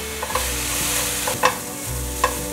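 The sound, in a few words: stir-frying white radish in a pan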